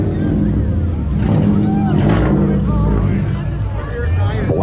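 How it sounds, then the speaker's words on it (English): A Subaru BRZ exhaust rumbles at a car meet, a loud, deep, steady engine drone with a few rising revs, heard under crowd chatter and nearby talking. "It looks like another BRZ lined up. And I like the way it sounds from here."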